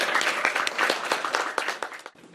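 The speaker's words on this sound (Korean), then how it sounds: "박수로 환영해 주시기 바랍니다" An audience at a Korean local civil-servant gathering claps to welcome a speaker, a dense, lively burst of applause that fades out near the end.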